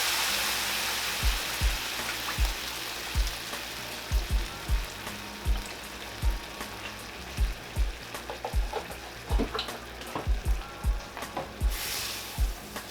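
Beef broth poured into a hot pan for beef stroganoff sizzles and bubbles steadily, while a utensil scrapes and stirs the pan in an irregular series of soft knocks.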